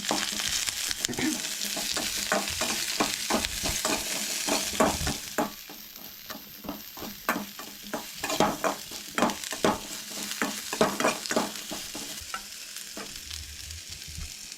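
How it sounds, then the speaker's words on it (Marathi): Clam meat fries lightly in hot oil for a Goan clam masala, a dense, even sizzle at first, then a run of rhythmic stirring scrapes over a quieter crackle, close and without talk. "खुब्यांची सोय न्हय हलकीशी भाजून घेवंक जाय"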